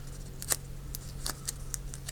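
Scissors cutting a sticker sheet in half, heard close and quiet as a run of sharp, crisp snips spaced irregularly over about two seconds, with no talking.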